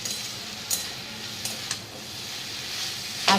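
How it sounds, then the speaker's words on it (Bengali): Potatoes fry in a pan on a home kitchen stove, giving a steady, close sizzle with a few soft clinks of a utensil against the pan. "আলু ভাজা বসিয়েছি"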